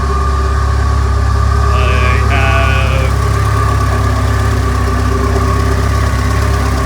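A 4G63-swapped Toyota MR2 warms up at idle, giving a loud, close, steady rumble with a constant mechanical hum and a brief higher tone partway through, with no talking.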